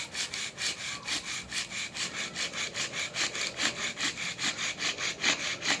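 A bow drill spins a spindle against a hard wood board for a friction fire, making a fast rhythmic back-and-forth rasp. Each stroke surges and fades in a steady, close, loud pattern, with no talking.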